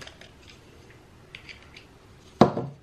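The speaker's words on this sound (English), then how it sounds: "I'm just gonna cut it on both sides" Scissors cut through packaging on a bath bomb cauldron: faint ticks and rustles, then one sharp, loud snip near the end, close to the microphone with no talking.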